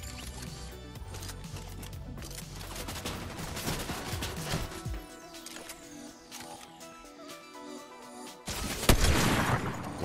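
Gunshots in a video game, a flurry of quick cracks and rattling bursts through the first half, a quieter lull, then a louder burst near the end, with no talk.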